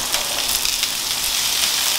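Onions and potatoes fry together in a pan for corned beef hash, giving a steady, close, even sizzle with no pauses and no voices.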